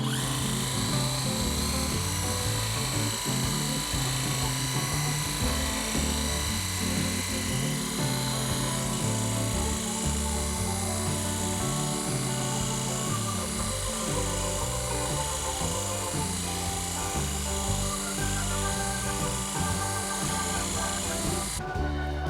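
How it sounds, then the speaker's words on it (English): A Rupes machine polisher with a white pad runs against the paint of a 2024 Mini Cooper Clubman, giving a continuous, close, whirring hum with faint rubbing texture throughout. "So I've got my Rupes polisher."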